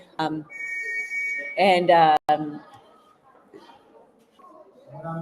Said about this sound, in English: He's blowing the whistle to get them in order.